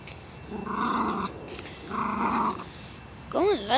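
A small pet dog growls in two sustained bursts while playing with a ball, close and fairly loud, followed by a brief higher yip or whine at the end.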